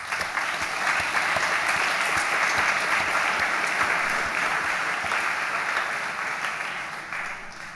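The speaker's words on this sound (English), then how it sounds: "a little applause for them is probably in place" Sustained applause from a commencement ceremony audience for teachers, friends and families, broad and even, fading gradually toward the close.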